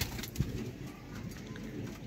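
Sialkoti pigeons with red pearl eyes cooing softly close by, a low murmuring coo over steady background noise with no talk.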